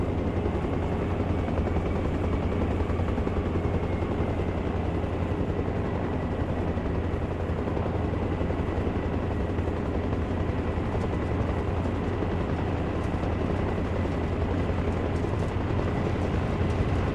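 A helicopter flying in the video game ARMA Reforger, a constant loud rotor thrum and turbine whine that holds steady throughout with no talk.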